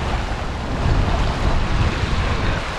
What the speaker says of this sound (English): It's more like an Atlantic swell than a North Sea swell.